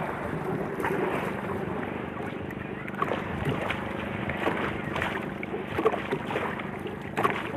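Boat heading out to sea toward a fish corral, with a steady motor drone, wind buffeting and water wash throughout, and occasional faint knocks and thumps.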